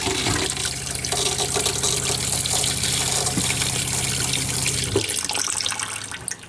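Steady water rushes from a tap into an RV fresh-water plumbing line being filled with bleach water, a continuous hissing flow with a brief clunk near the end.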